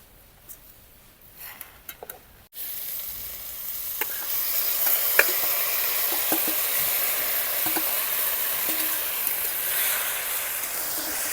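Boiled dheki shak greens hit a pan of reddened onion and garlic and break into a steady, close sizzle, preceded by a few light clinks and stirring sounds in a quieter stretch.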